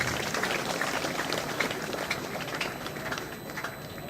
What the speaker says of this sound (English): Shall we please give them another round of applause?